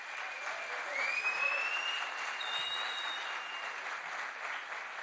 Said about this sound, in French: Et on peut l'applaudir pour ça